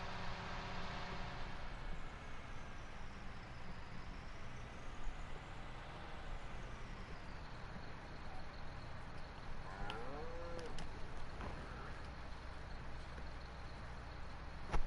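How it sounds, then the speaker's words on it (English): Cattle moo in a farming video game set in the Australian outback, with low drawn-out calls over a steady hum of engine-like background noise. The calls are moderately loud and come one after another. "I'm just trying to water the cows, that's all."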